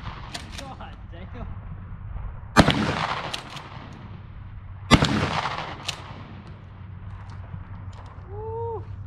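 Two loud, close shotgun blasts from a Mossberg 500 pump-action firing 2¾-inch shells, spaced a few seconds apart, each with a sharp crack and a rolling echo, heard outdoors.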